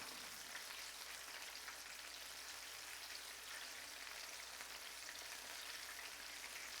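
Fire chicken ramen tacos fry in hot oil, a steady, even hiss of bubbling crackle, soft and unbroken, with no voices over it.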